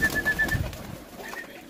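Pigeons in a loft give low cooing calls, moderately close, with a brief rustle and a few soft murmurs over nearly two seconds and no speech.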